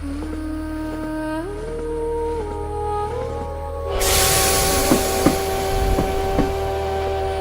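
A train running on rail, its steady low rumble and hiss building into a louder, rougher roar partway through, with occasional knocks and clanks, no talk over it.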